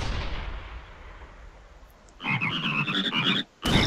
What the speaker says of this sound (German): Frösche.